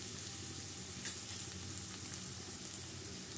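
Mixed river fish frying in oil hisses and crackles in a steady, close, continuous sizzle while spices are tipped into the pan, with a faint stirring scrape partway through.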